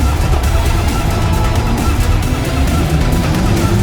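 Steady, loud rushing road and wind noise from a BMW iX xDrive40 all-electric, all-wheel-drive SUV driving a timed lap, continuous and close with no distinct engine note.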